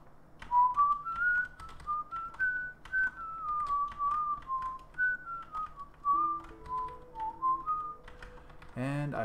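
Someone whistles the melody of a song, a clear, wavering tune over soft keyboard tapping, ending with a short burst of speech.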